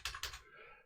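Two quick, faint bursts of keystrokes come from a ThinkPad T430 laptop keyboard, followed by a brief fading tail, with no talking.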